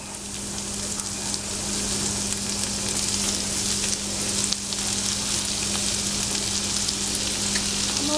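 Minced garlic frying in bacon grease in a pan, a loud continuous sizzle with a steady low hum beneath, close up and with no talk.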